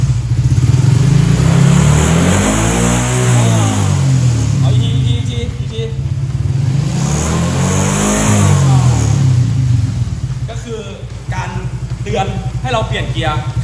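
A motorcycle engine revs up and holds near 5,500 rpm, rising and falling in two long, loud sweeps, with someone talking over the engine toward the end.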